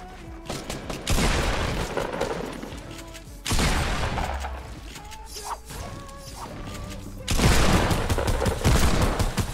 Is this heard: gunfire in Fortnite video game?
yes